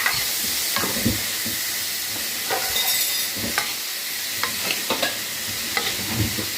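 Masala chickpea sundal stirred in a pan, a spoon scraping and tapping in irregular strokes over a soft background sizzle, moderately quiet with no talking.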